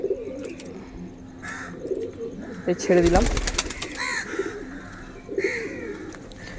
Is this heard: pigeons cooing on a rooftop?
yes